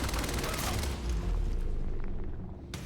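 A rapid, rattling burst from an advanced SMG in the Quantum Break shooter, dense fire with heavy low booms that fades toward the end, fairly quiet overall.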